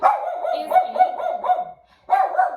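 A pet dog barks close by in a quick run of about five sharp barks, goes quiet briefly, then resumes with another burst.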